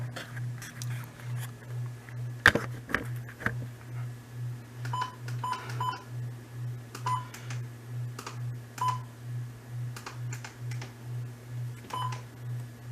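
A series of short electronic button beeps from a Midland WR-120 weather radio repeats at irregular intervals over a low pulsing hum, with faint clicks of pressing in between.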